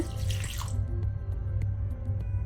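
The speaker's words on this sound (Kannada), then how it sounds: "ಈಗ ಇದಕ್ಕೆ ಸ್ವಲ್ಪ ವಾಟರ್ ನೀರು ಹಾಕಿ ಇದನ್ನು 10 ಮಿನಿಟ್ ನೆನೆಸಿಡುವ" Water is poured over dried fish to soak, a brief close splash and gush followed by a gentle trickle with a few drips.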